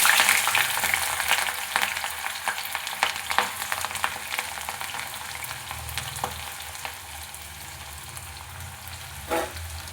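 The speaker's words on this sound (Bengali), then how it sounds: "বন্ধুরা কালিয়া বানানোর জন্য আমি দুটো পেঁয়াজ কুচি করে নিয়েছি ওগুলো প্রথমে ভেজে নিয়েছি" Two chopped onions frying in oil for Bengali fish kalia, a steady close sizzle with occasional stirring clinks and scrapes throughout, no talking.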